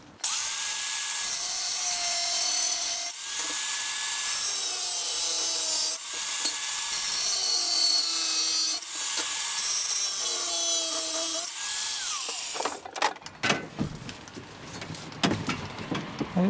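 A 0.8 mm abrasive cutting disc on a grinder cuts the corner of a 4.5 mm steel plate, a loud sustained shrieking grind broken into several passes, then the blade spins down and the workpiece clatters.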